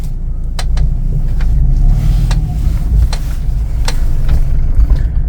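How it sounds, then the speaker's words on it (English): A Fiat car engine rumbles steadily and close, with sharp rattles and clicks of loose interior parts popping up irregularly over the drone. "There will be a lot of noise because everything is loose inside the car."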